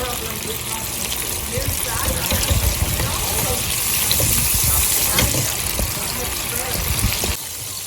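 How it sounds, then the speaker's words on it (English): Steady loud sizzling and crackling of bullfrog legs frying in hot oil, a continuous hiss that holds throughout before dropping slightly at the end. "We're gonna start frying."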